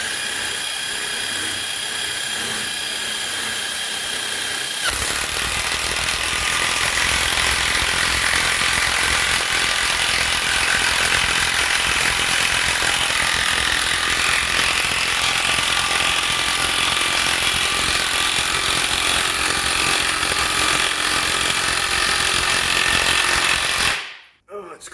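An Ozito 18V three-speed impact wrench drives a 200 mm screw into wood, a loud continuous whirring hammer that runs unbroken for about twenty seconds close to the microphone before cutting off abruptly.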